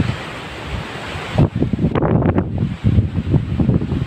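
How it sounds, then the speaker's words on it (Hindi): Strong wind blows near the Atal Setu bridge on the Punjab side under dark storm clouds, roaring and buffeting the microphone in heavy gusts that grow rougher partway through. "तेज हवा आ रही है, ये देखिए"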